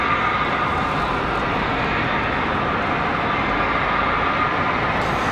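An American Airlines Airbus A321 arrives from Buffalo, New York, its engines making a constant broadband rumble and hiss at moderate distance, unbroken and without talk.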